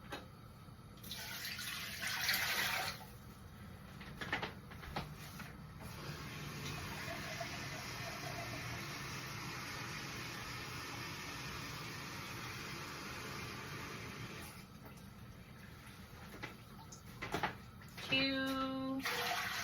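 Hot water pours steadily into a pot set up for hot-packing canning jars, a continuous splashing wash lasting most of the stretch, with brief clinks and handling noises near the end.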